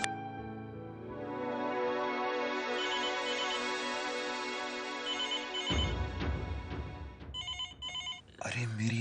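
Telephone ringing indoors with a steady electronic trill that holds for several seconds, then gives way to other noises and short ring bursts. Some talk overlaps.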